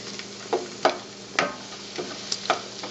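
Saved sushi wasabi being stirred and mixed in a small dish, a series of soft, separate scraping taps at an irregular rhythm, close and quiet with no voices.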